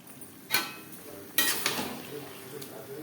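Gobindobhog rice tipped into a pot of part-boiled potatoes, heard as a few sharp clattering knocks and a soft rustling pour against quiet kitchen background.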